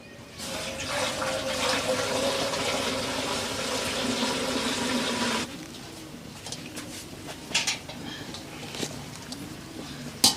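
Water is poured from a vessel while khaman is being cooked, a loud, steady splashing stream for about five seconds that then stops, followed by quieter kitchen clatter.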